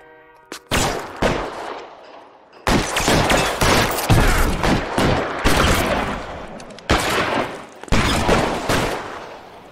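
A shootout in the crime game L.A. Noire: loud, close gunfire crackles in several rapid volleys separated by brief pauses, with overlapping shots and sharp onsets throughout.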